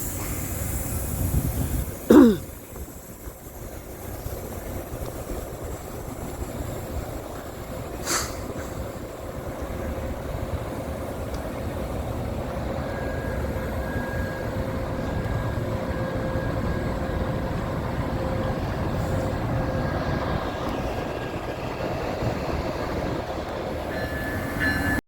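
An Amtrak locomotive with a damaged nose is dragged along rails toward a locomotive repair facility, giving a steady low rolling rumble with a sharp knock near the start and faint metallic squeals later.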